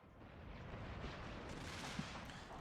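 Artillery duel during a Total War Shogun 2 battle in the Scramble for the Far East setting, Prussia and Guatemala against Bavaria: a dense, continuous rumble of distant cannon fire with one sharper crack standing out, no voices.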